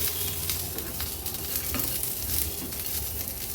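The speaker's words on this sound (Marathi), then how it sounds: "पॅन गरम असल्यामुळे हे बघा तीळ पण व्यवस्थित भाजले जातील" Sesame seeds and roasted peanuts toasting in a hot pan with the flame off, a constant crackling sizzle with light stirring scrapes, close and steady throughout with no talk.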